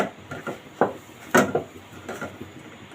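Semolina dough for gulab jamun is mixed in a bowl, giving a run of soft, irregular knocks and scrapes. Some strokes land louder than others, and the sound is close and stands alone.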